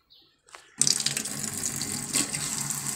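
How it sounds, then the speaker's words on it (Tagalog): Water gushes from a faucet just opened, starting abruptly after a couple of faint handling noises and then running steadily and close by, with no speech. "Subukan natin buksan yung gripo."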